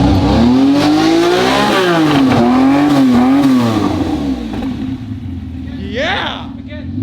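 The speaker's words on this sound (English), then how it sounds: "All right, here we go. Few revs." A rare Bugatti engine revs hard and close, rising and falling in several throaty sweeps before settling to a rougher idle, with a brief excited shout near the end.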